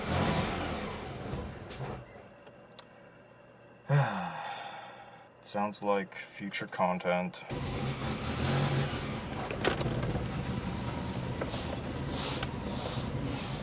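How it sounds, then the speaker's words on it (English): A 1990 Saab 900 engine runs while the car drives, a mid-pitched motor hum with revving and gear changes, interrupted by a sigh and a short spoken remark. "Yep, still runs the same."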